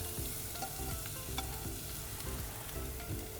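Grated coconut and dried red chillies roasting in a little oil in a pan give a steady, close sizzle with soft crackles and a few stirring scrapes throughout.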